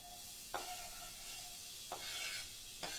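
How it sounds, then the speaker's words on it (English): Quiet steady sizzling hiss of onions frying in a pan, with three soft scrapes of stirring spaced through it. "Hear that nice sizzle?"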